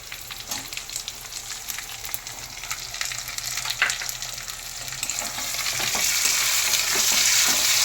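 Small halved tomatoes dropped into hot oil with fried garlic, sizzling loudly and steadily, the frying growing fuller and brighter toward the end, close and without talk.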